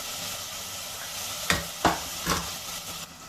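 Sliced onions with a pinch of salt frying in a pan, a steady sizzle broken by three or four sharp stirring scrapes in quick succession, close and fairly loud.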